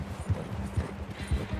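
Horse hooves clip-clop at a steady riding pace along a road in Red Dead Redemption 2, with rhythmic thudding beats roughly every half second over soft ambient background.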